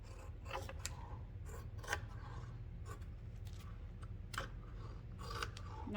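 Scissors trimming excess fabric from a pouch back panel, giving soft, intermittent snips and rustling cuts, fairly close and quiet, with no talking.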